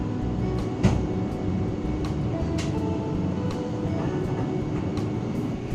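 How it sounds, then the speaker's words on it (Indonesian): KA Jayakarta passenger train departing Bekasi station rumbles steadily with low wheel and carriage noise, punctuated by sharp metallic clicks and clacks from the rails at irregular intervals, heard from inside. "KA Jayakarta diberangkatkan kembali dari stasiun Bekasi jam"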